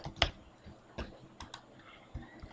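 A few scattered keystrokes on a computer keyboard, isolated sharp clicks with gaps between them, close but not loud, against a quiet room background.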